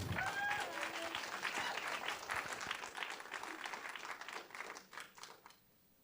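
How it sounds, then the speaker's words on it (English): An audience at a game developers' event gives a warm round of applause for the guests, dense clapping at first with a brief voice, then thinning and fading out near the end. "Everybody, a warm round of applause for our guests."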